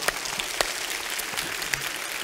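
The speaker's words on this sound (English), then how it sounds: "Let's give them a great big hand clap this morning." A church congregation claps for its volunteers during a Sunday morning service, a dense burst of hand claps with a few sharper slaps, steady throughout and with no talking over it.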